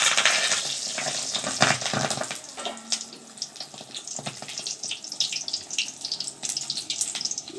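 An egg wrapped in banana leaf frying in a pan, a steady close hiss of sizzling oil with scraping and light knocks as it is turned over.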